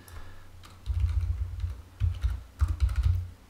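Typing on a computer keyboard in bursts of soft, close clicks and key taps, pausing briefly between runs, with no voice over it.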